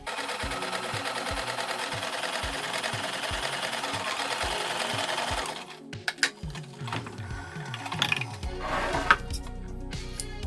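A sewing machine stitches together the crocheted pieces of a sardine-shaped bag's lining, its needle thumping in a steady rhythm for several seconds before stopping, followed by handling noises and fabric rustling.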